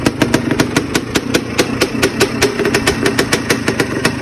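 Rebuilt 2006 Yamaha Blaster ATV engine running, a loud close two-stroke putter with sharp evenly spaced pops in a quick steady rhythm and no voices.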